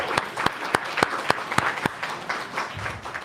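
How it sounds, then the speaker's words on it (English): Audience at a hackathon demo livestream applauding, a short burst of scattered distinct claps over a soft crowd wash. "Big round of applause again for Team Holistic."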